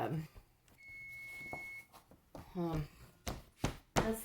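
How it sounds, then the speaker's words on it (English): A kitchen oven timer gives a single sustained electronic beep after an hour of baking bread, heard close and clear, followed by knocking and a person talking. "oven telling me that it's been an hour"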